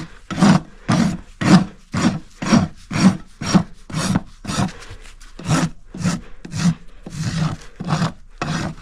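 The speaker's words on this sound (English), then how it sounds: "I'm using the aggressive side of my rasp" Farrier's rasp filing a horse hoof on the aggressive side produces a close, regular series of about fifteen rough rasping strokes in steady rhythm, with no talking.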